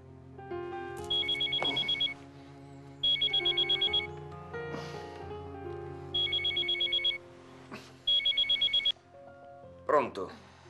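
An old-style telephone bell in a home's entrance hall rings in repeated bursts, roughly every two seconds, loud and close, with muffled background voices and movement between rings.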